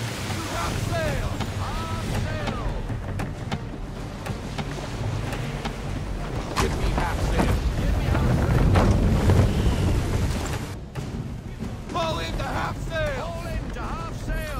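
A sailing warship crosses open sea in the video game Assassin's Creed 3, with steady wind rush and waves washing against the hull, while shouted voices ring out above the constant roar.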